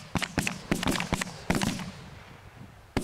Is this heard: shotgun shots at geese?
yes